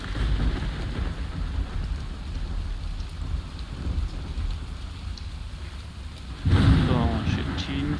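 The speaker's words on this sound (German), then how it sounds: "Das Gewitter." Steady rain hisses through a thunderstorm in the video game ARK, with low rumbling throughout and a loud, deep thunder crash breaking in near the end while voices talk over it.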